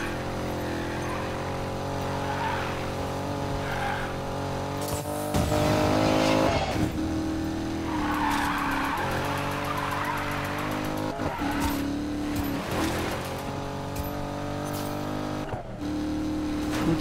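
A Corvette drifting in Need for Speed Payback, its engine droning steadily while tires squeal in long, loud skids, with the revs rising and falling between slides.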